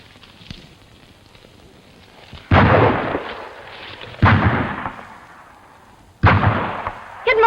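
Three loud gunshots ring out in a Western movie, each a sharp blast with a long echoing tail, spaced a couple of seconds apart after a quiet start.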